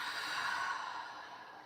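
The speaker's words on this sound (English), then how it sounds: "a deep breath in and an audible breath out" A single long exhaled breath during a yoga breathing practice, a soft breathy sigh that starts strong and slowly fades over under two seconds, close and alone with no talk.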